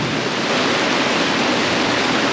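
Heavy rain pours on a campsite in Shenandoah National Park during a thunderstorm, a loud, dense and steady roar with no breaks and no voices.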